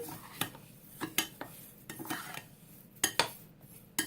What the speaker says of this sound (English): You really do want to give it a good stir because you want every little bit coated